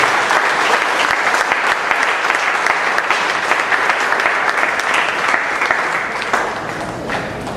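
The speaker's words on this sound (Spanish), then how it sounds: "Un aplauso al Señor." A church congregation applauds together, steady clapping at close range that rises and holds for several seconds before thinning out slightly at the end, with no talk over it.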